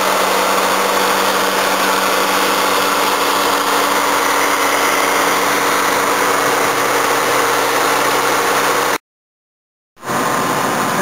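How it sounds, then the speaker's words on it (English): A Toyota AE82 car engine holds a fast idle in hot weather, a steady, loud, close hum with vibration, then a sudden second of silence before the sound returns. "Just set a very fast idle and let the car sit here for ages"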